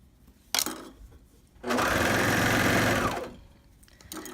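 After a sharp click, a sewing machine sewing a curved hem runs in a brief, close, steady whir for about a second and a half, then winds down into quiet handling sounds.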